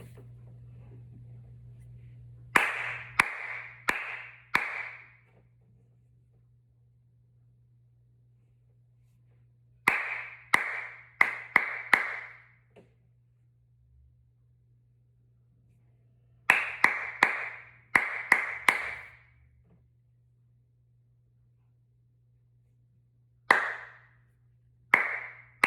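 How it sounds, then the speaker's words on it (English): Rhythmic hand clapping in short groups of sharp claps separated by pauses, four or five claps per pattern, close and clear over a steady low hum, with no talking. "I'm going to clap them, and you're going to call in response with the counts"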